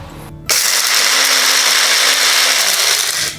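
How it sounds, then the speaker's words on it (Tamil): An electric mixer grinder powders spices, its loud steady whine starting abruptly after a brief moment and running continuously for a few seconds before tapering at the end. "இப்போ இதை நம்ம அரைச்சிடலாம்."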